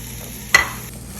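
Onions and capsicum fry in oil for chicken jalfrezi: a low steady sizzle broken by one brief, sharp clatter or stir partway through, close by and without speech.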